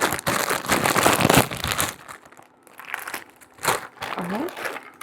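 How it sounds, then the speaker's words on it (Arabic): A bag of Cheetos being torn open in a home kitchen: loud, close crinkling and crackling of the plastic snack bag in bursts, with a few softer rustles and a brief pause partway. "هفتح كيس التشيتوز"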